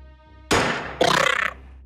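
Gunfire in the tactical video game Xenonauts as a normal shot hits its target: a sharp, loud bang, then half a second later a rapid rattling burst that cuts off abruptly.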